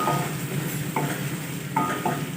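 Turmeric and red chili powder fry in hot oil in a pan, a steady close sizzle with a few soft scrapes of a spoon, no voices.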